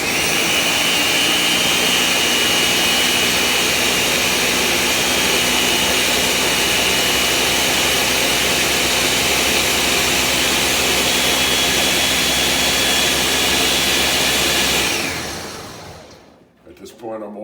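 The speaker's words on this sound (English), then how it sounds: "And now it's going to get a little noisy because I'm going to blend it." A blender roars loud and steady for about fifteen seconds, a dense whirring grind as it blends tomatoes, then winds down and stops.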